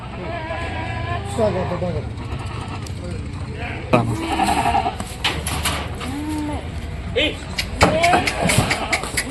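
Goats bleat repeatedly at a livestock market, several calls overlapping near and loud, while people talk among them and an engine rumbles low in the background.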